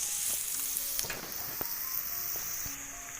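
An onion fries in a pan over a village wood-fired stove with a steady sizzle. A few soft clicks and taps of stirring come in between, with no talking.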